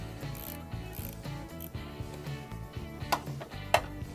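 A 10mm ratchet wrench clicks rapidly while loosening the positive battery cable fastener on a 2014 Volkswagen Passat, close and rhythmic in short bursts, with a couple of louder metallic taps.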